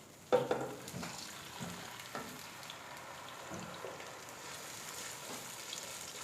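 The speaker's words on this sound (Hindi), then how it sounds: "पेस्ट डालने के बाद हमने इसको ऑयल में अच्छी तरह से भून लेना है" Tomato paste sizzles and fries in half a cup of hot oil for beef karahi, a soft, steady crackle with a few louder stirring scrapes near the start.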